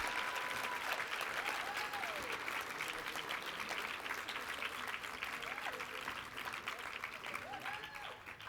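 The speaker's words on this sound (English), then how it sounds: "let's give a round of applause for the 2016 Founders Award" An audience at an awards luncheon claps in sustained, dense applause for several seconds, with voices and cheers mixed into the clapping.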